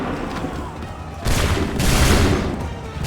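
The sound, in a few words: musket volley fired by soldiers in Assassin's Creed 3 video game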